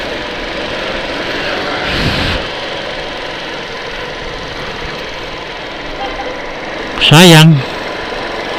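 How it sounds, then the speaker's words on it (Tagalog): A struggling motorcycle engine idles in a low, uneven chug under a voice, which briefly breaks in over the running motor. "tuluyan na talaga ng sakit ng motor ko"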